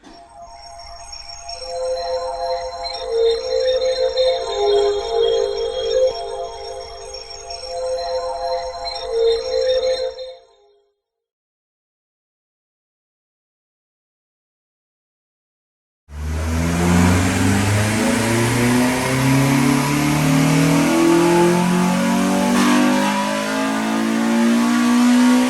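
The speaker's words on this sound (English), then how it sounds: "let's see what it makes in standard form now that it's strapped down to the dyno" A Honda Civic EP3 Type R with a K20 engine revs hard on a dyno, rising through the gears with a steady climbing howl after a pause, loud and close with no talk.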